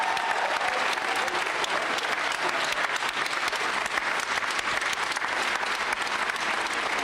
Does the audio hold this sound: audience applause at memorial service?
yes